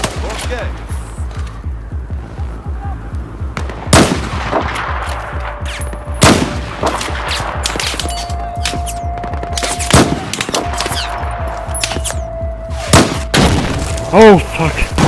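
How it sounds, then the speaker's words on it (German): Battlefield 4 video game combat in the Kunlun mountains: rapid rhythmic automatic gunfire with loud sharp single rifle shots cracking over it, a sustained tone and explosions, while players talk over the noise. "Warte, ich hol sie mit meiner Sniper."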